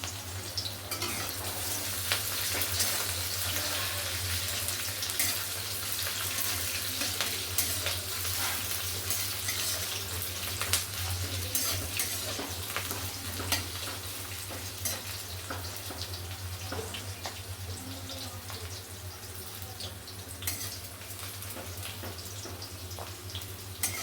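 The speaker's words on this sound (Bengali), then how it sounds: "কেটে রাখা পেঁয়াজটা দিয়ে দিচ্ছি।" Chopped onion and dried chilies fry in a pan with oil, giving a loud, continuous, dense sizzle and occasional stirring scrapes throughout, with no talking.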